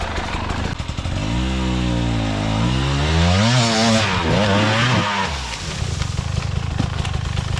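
A KTM 2024 hard enduro motorcycle climbing a steep trail, its engine close and loud, revving up in pitch, holding and wavering under strain, then dropping off as it crests the climb.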